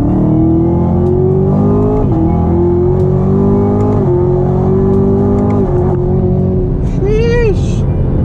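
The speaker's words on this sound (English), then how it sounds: "So she's kind of downshifting a little bit right there. You guys hear it?" A 2019 Camaro ZL1 1LE automatic driven in manual mode revs loudly up close, its engine note rising and falling through several downshifts before a sharp high rev burst near the end.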